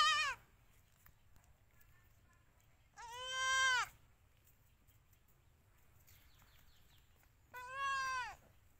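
Indian mother goat bleating beside her newborn kid, two drawn-out, wavering calls a few seconds apart at moderate distance, with quiet background in between.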